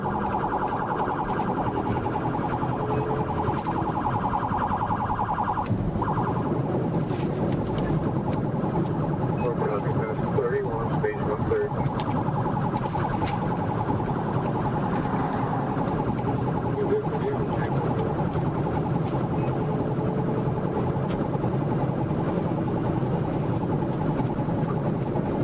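A state trooper's police car siren wails during a high-speed chase of a Porsche at 153 miles per hour, mixed with loud engine and road roar, and a voice talks over it.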